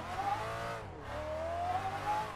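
Nissan 350Z turbo drift car in a virtual drift racing game, its engine droning and revving with a rising and falling pitch, close and steady throughout.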